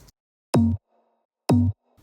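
Two short, punchy synth bass stabs layered with a glass lid noise for extra attack, each about a quarter second long with a pitch sweep, separated by silence, with brief faint sounds at the edges.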